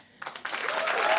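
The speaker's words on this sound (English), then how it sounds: "give everybody your huge applause" Crowd at a Boston Fashion Week storytelling evening breaks into applause after a short quiet moment, the clapping building quickly and holding loud and steady.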